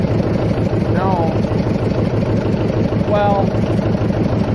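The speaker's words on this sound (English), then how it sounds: "I just realized I was standing right next to that engine." A John Deere 70 Diesel tractor engine idles nearby with a steady, loud, throbbing low rumble that runs unbroken throughout, and a couple of faint brief whistling tones rise over it.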